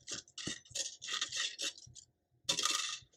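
A blade slices through a sheet of matting paper for a handmade card, producing a series of short, close scratchy strokes with a brief pause before one longer final cut.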